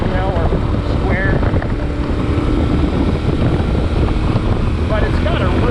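Yamaha Tenere 700 motorcycle engine droning steadily while riding, a loud continuous rumble mixed with wind buffeting the microphone, with a voice talking over it.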